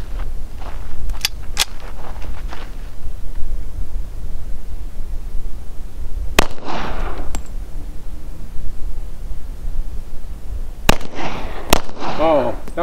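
Shots from a Witness Elite .40 handgun ring out as a few sharp, loud cracks, spaced early, mid-clip and near the end, over steady outdoor background noise.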